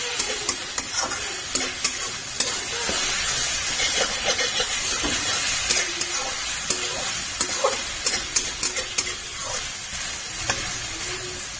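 Jackfruit pieces sizzle and fry in hot oil while being stirred, a continuous loud hiss broken by regular scraping clicks of the spoon against the pan.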